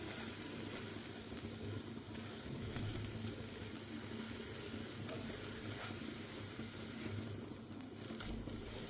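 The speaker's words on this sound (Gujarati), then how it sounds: "એક વખત હલાવી અને સરસ રીતે આપણે મિક્સ કરશું" Peanut and besan curry with fenugreek leaves being stirred in a pan, a faint continuous sizzle with soft scraping and patter, steady and low-level throughout.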